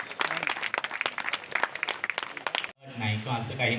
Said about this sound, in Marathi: जोरात टाळ्या वाजवत आहे.